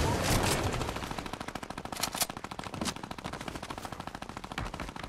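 Rapid machine-gun fire rattles through a video game in a dense, sustained burst of quick repeating shots, loud at first and then continuing steadily, with a few heavier single bangs mixed in.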